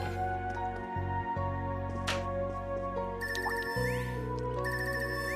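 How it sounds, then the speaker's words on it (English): A phone ringtone sounds in the video game Trails of Cold Steel III: a repeating electronic ring over soft background game music, fairly faint and steady. "Ringtone. I haven't heard this before."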